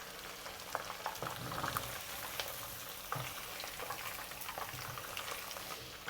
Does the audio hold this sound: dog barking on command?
no